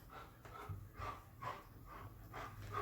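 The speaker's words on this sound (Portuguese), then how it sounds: "É o meu cachorro que tá latindo." A dog barks off-camera indoors during a crochet tutorial, with a series of muffled barks spaced about half a second apart, heard at moderate loudness in the background.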